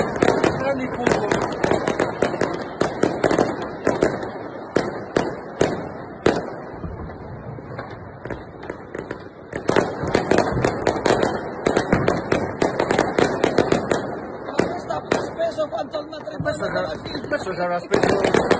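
New Year's Eve fireworks at Ostia Lido, Rome, crackle and bang continuously in dense volleys of sharp pops and booms. People talk excitedly underneath the barrage.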